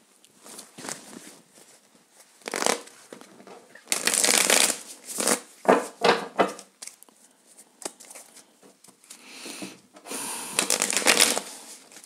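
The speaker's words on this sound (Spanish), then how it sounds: "Vamos a barajar nuestro tarot de los vampiros" Vampire tarot cards are shuffled again and again in uneven bursts of riffling and soft slapping, close by and quiet, with no talking.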